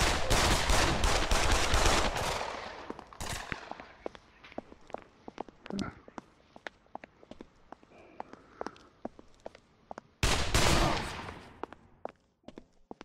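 Gunfire in the VR shooter Pavlov VR: dense bursts of shots open and return near the end, with scattered single cracks and clicking handling noises in between.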